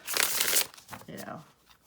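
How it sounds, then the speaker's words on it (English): A quick riffle of a tarot card deck, a brisk papery burst followed by a shorter flutter, close and fairly loud, with no talking. "So you see how beautifully it shuffles."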